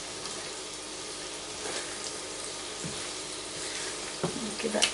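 Onions frying in a pan while chicken is prepared, a steady close sizzle with faint stirring and a few clinks near the end.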